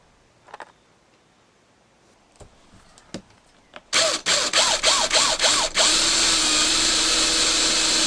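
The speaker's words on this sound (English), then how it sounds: "Drill another hole each on out here and screw into this." A power drill bores a hole for a fitting on a kayak, starting with a few faint clicks and brief taps, then close, loud bursts of rising and falling motor whine in quick succession, ending in one sustained high run.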